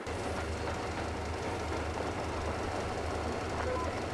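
Railcar engine running steadily in the Metro Exodus video game, a continuous low rumble with faint clattering, with people talking over it.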